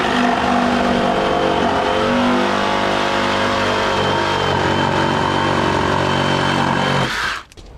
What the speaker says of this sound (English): I'm using Flex 24 volt Sawzall brushless with a 5 amp battery